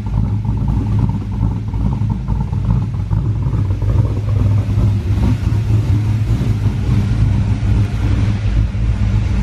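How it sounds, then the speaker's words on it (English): A car's engine gets a few cold revs at idle, a steady close mid-low engine roar with no talking. "gonna give it a few cold revs."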